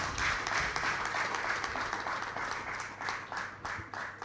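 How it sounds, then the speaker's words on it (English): Audience clapping for the chairman at a corporate launch event in Uganda, a steady, dense round of applause from a crowd that holds its level throughout before easing slightly near the end. "Let's stand up and give the chairman a deserving hand clap"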